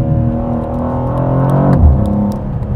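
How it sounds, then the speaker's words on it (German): A 2023 BMW M2 G87 engine pulls under light throttle, a steady close drone with harmonics sweeping upward then dipping as it shifts, continuous throughout with no talk. "ich gebe nicht viel Gas, aber du merkst du gleich, gleich umgesetzt."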